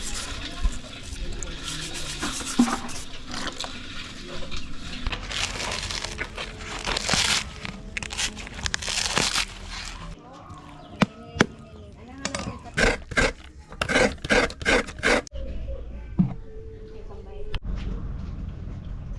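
Freshly caught mud crabs stirred and washed to rinse off mud, giving rough scraping, rattling and splashing shell sounds, dense at first, then broken into sharp separate knocks and clatters near the end.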